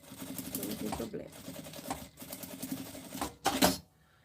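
A domestic sewing machine stitches the seam of a fabric box-style toiletry bag in short runs with brief pauses between them, ending in a louder burst near the end.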